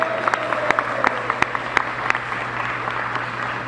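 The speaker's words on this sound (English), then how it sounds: "Please give her a big round of applause." Audience applause at a small business event, a sparse scattering of distinct claps over steady room hum, moderate in level and fading toward the end.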